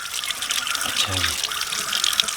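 Tap water runs steadily into a kitchen sink as a peeled pumpkin is washed, a continuous close splashing hiss throughout, with a brief low voice underneath.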